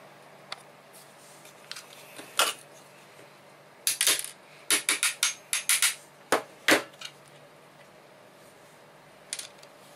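Several sharp metallic clinks and taps cluster together as a small screw from a Glock-style pistol drops off a hammer and bounces on a hard surface, with quieter ticks around them.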